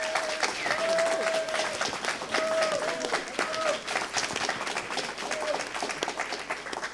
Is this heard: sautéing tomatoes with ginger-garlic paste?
no